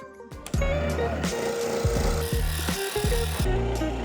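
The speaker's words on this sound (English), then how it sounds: "we needed to start chopping down some PVC" A saw cuts through PVC pipe for a homemade chainsword in quick, rhythmic back-and-forth strokes, close and loud, with a harsh, rasping tone.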